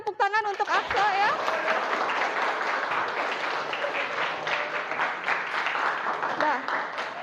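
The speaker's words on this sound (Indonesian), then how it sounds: "Berikan tepuk tangan untuk Aksa ya." A classroom audience claps for a student who answered correctly, a dense, steady round of applause lasting several seconds, with a teacher's voice briefly heard at the start.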